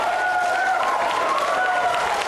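Spectators applauding the win in a women's World Cup lawn bowls singles final, steady clapping from a crowd with a commentator's voice running over it.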